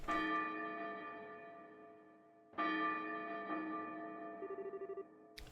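A noon church bell in the video game Trails in the Sky tolls twice, each deep, ringing strike left to hang and slowly decay, loud and alone with no talk.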